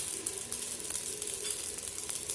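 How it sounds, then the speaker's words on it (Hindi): Carom seeds (ajwain) sizzle in a hot pan on a gas stove, a steady, close, continuous crackling hiss with no speech over it. "वो जीरे की हम जैसे तड़का देते हैं वो वैसे"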